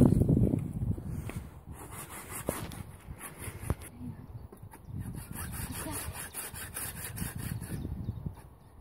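Someone saws down an apple tree with steady back-and-forth strokes that rasp through the wood. The sawing is close and fairly loud, and it runs continuously with short pauses and a few knocks.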